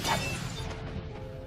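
A homemade petrol bottle bomb, lit and thrown at a bulldozer, shatters in a single sharp, loud glass break at the start, then a rough, sustained crackling roar continues close by with no talking.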